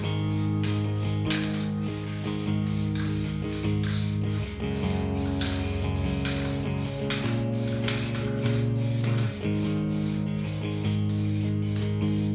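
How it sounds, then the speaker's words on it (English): A spray can lays down black 1K primer on a carbon Pinarello Dogma bike frame in a run of short, evenly spaced hissing bursts over steady background music. "I laid down 2 coats of black 1K spray can primer."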